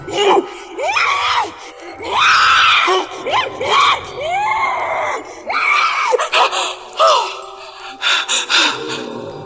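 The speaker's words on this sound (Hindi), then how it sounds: "चीखते हुए उठी" A woman screams repeatedly in rising, wailing bursts with gasps and moans between, loud and close, as a horror-story sound effect.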